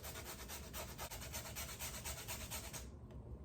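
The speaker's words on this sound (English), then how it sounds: "It's easier to grate too when it's frozen, a little frozen." A thumb-sized piece of partly frozen ginger is rubbed quickly back and forth over a grater in close, rhythmic rasping strokes that stop just before the end.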